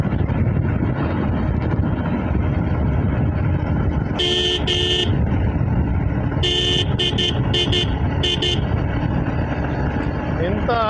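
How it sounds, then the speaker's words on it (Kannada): A motorbike horn honks in several short bursts, one brief and then a quick cluster of toots, while riding the curving road from Punacha to Melkar, over constant engine and wind rush, with a voice talking. "ಟರ್ನಲ್ಲೆಲ್ಲ ಹಾರ್ನ್ ಹಾಕಲೇಬೇಕು."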